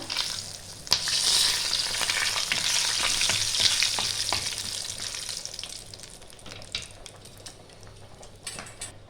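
Cinnamon, cardamom, cloves, dried chillies and bay leaves fry in hot oil for khichuri, a loud close sizzle that gradually fades, with occasional stirring clinks against the pan.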